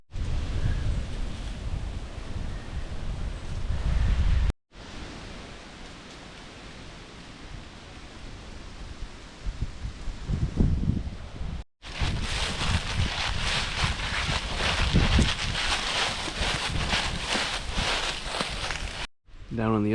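Steady wind gusting across a hilltop trail at Trough Creek State Park in fall, heard as a loud, continuous broadband rush with heavy low rumble from buffeting against the microphone, broken by a few brief cuts.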